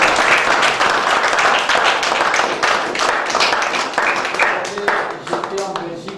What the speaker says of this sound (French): Et je crois qu'il mérite des applaudissements